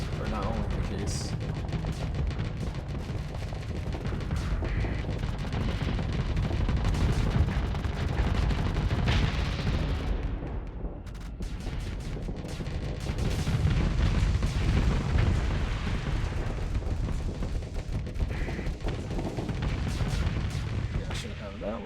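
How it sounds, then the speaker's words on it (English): Heavy autocannon and heavy machine gun fire in a sci-fi combat video game, a dense continuous barrage of booming low impacts lasting throughout, loud and close, with a voice talking over parts of it. "you have a heavy autocannon and you have a heavy machine gun"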